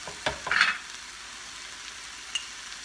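Beans and sauce cooking in a pan: a short burst of stirring clatter and crackle near the start, then settling into a faint, quiet simmering hiss with one small tap later.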